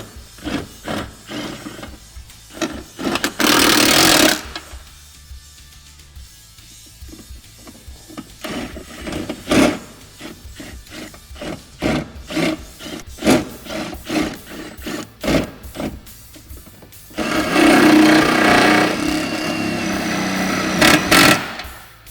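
A power tool drives 10mm bolts into pre-drilled holes while inner fender guards go onto a Can-Am Defender H10. Two loud buzzing bursts, one short and one lasting several seconds, stand out against scattered clicks and handling noises.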